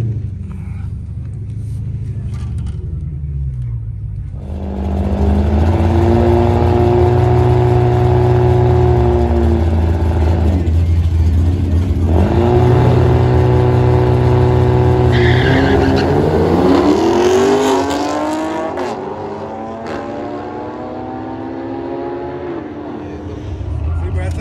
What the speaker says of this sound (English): I'm about to pull over and let my car cool down for a sec.